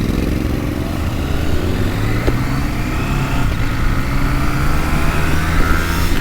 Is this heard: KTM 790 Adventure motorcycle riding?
yes